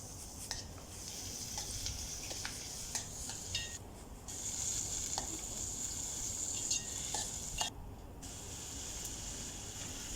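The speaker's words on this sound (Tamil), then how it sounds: "இப்போ தக்காளியும் அது கூட நம்ம சேர்த்து வதக்கிக்கலாம்." Tomatoes sauté in a pan with a bright, even sizzle and occasional utensil scrapes and clinks; fairly quiet and steady, with a couple of short breaks in the hiss and no voices.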